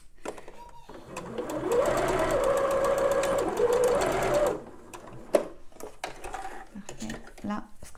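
Domestic sewing machine running a steady stitch through fabric for a top, a loud continuous whirring burst of about three seconds, then stopping, with spoken instruction in French around it.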